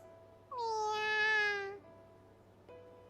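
A single clear, drawn-out meow from a kitten in the PC visual novel game You and Me and Her: A Love Story, rising then falling over about a second, followed by a faint short sound.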